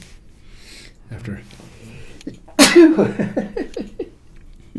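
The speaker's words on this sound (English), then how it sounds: "I might be sneezing here soon." A man lets out one sudden, loud sneeze partway through, with quiet speech and breathing before it and a few trailing sounds after.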